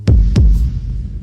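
Two heavy heartbeat thumps pound like a drum, close and loud, the second following the first quickly before a low lingering hum.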